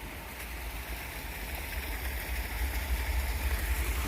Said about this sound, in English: It's got the water running right next, streaming down